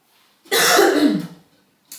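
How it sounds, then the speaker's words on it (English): A single harsh throat-clearing cough, close and loud, followed by a brief faint breath. "I feel like I need to cough."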